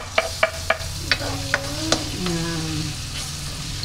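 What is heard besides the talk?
garlic sautéing in a pan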